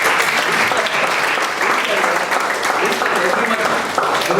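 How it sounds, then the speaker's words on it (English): Big round of applause for a guest at a college MBA department lecture, dense and loud clapping sustained for over four seconds with a murmur of voices underneath. "give a big round of applause to him"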